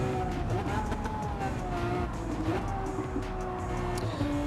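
Lamborghini race car engine roaring at full throttle in Gran Turismo 7 on a sunset Atlanta track, steady high revving drone with gear shifts, under someone talking.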